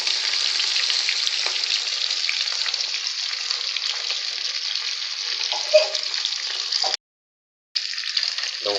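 Fish sizzles steadily in hot oil, a dense continuous frying hiss with small crackles, broken by a brief silent gap near the end before the sizzle resumes.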